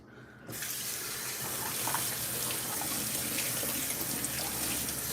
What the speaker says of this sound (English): Cleaning this Emerald Lagasse pan.